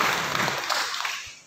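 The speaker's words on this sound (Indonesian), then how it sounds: "mari kita beri tepuk tangan sekali lagi Ibu IPD kita" A church congregation claps together, a brief burst of dense applause from many hands in a room that tapers off within about a second and a half.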